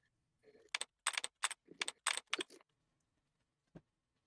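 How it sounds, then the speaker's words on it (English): Custom keyboard typing sounds: a quick burst of sharp, clacky keystrokes in an irregular rhythm, close and crisp against near silence, with one last isolated tap. "it's also going to be picking up my typing because I have custom typing sounds"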